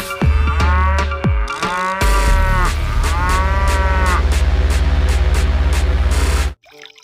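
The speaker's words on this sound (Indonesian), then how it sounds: "Wow, ini sapi." Cow mooing in a series of loud, close, drawn-out moos with strong harmonic tones, several calls in quick succession before stopping abruptly near the end.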